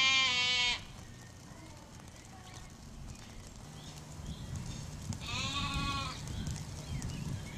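Sheep bleat loudly in a few drawn-out, wavering calls at the start and again near the end, over steady low rumbling farmyard background noise.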